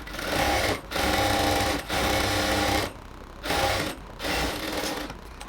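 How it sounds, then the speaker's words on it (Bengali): A sewing machine double-stitches the seam of a ladies' pant, buzzing loudly in four close, sustained runs separated by short pauses, with no talking. "আমরা আরও একটা ডাবল সেলাই দিয়ে নেব এখানে।"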